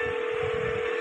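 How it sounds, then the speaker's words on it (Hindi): A phone call being placed from beside a car in a parking area: one steady electronic telephone tone holds unbroken and fairly loud for about a second, with no voices. "फिर से फोन मिलाया"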